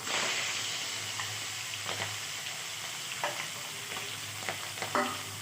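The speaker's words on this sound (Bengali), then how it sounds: "প্রথমে আমি মাছটা ভেজে নিব এটা হচ্ছে চারাপোনা মাছ" Charapona fish frying in a pan for a bottle gourd fish curry, a steady close sizzle with scattered crackles and pops throughout, no talking.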